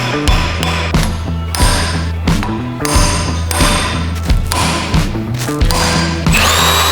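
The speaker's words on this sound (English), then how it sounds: "take off the 6 12mm bolts keeping the grease in" A ratchet wrench backs out 12mm bolts on a Land Cruiser wheel hub, some of them stripped. It gives loud, close bursts of rapid clicking separated by brief pauses and sharp metallic knocks, with no voices.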